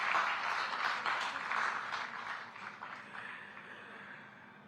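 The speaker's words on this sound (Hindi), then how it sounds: "तालियां आप सबकी तरफ से बनती है" An audience at a Haryana government event in Panchkula claps, a fairly faint, fading patter of applause that thins out over a few seconds.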